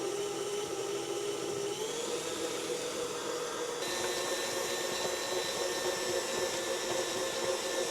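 Stiff graham cracker dough with pure vanilla extract being mixed by an electric mixer, a steady loud motor whine running continuously throughout with no talking.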